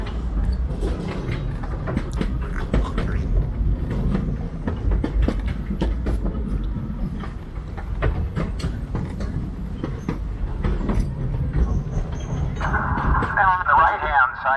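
A narrow gauge train on the Cripple Creek and Victor Railroad in the Colorado mountains rumbles steadily along its rails with rhythmic clicks and clacks, close and loud throughout, while people talk over it.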